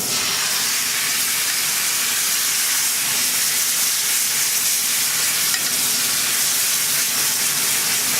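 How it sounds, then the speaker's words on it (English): Demi-glace hits a hot pan with leftover residual, giving a loud, steady broadband sizzle that runs without a break for about eight seconds and carries no speech. "I want to get this demi-glace in the pan now. Our demi is going in now."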